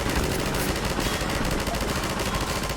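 Rapid, continuous automatic gunfire in Half-Life 2, a dense rattling burst of shots fired at explosives, loud and close throughout.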